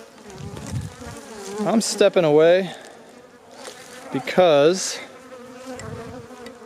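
Bees buzzing loudly right at the camera beside a beehive during winterizing, with two close, rising buzz passes over a quieter hum while a person briefly speaks.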